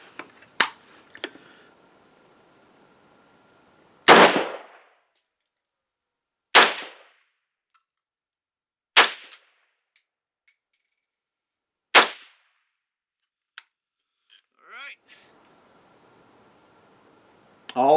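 Rifle shots from a Zastava NPAP fitted with a TRS-25 red dot, five loud sharp reports fired one at a time several seconds apart outdoors, with brief quiet gaps and faint handling noises between them.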